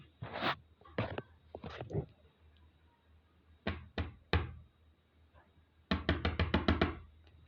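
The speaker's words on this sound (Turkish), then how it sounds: "kapı çaldı." Knocking on a door: several short sharp raps in irregular clusters, then a quick run of about eight knocks near the end, mixed with voices talking between them.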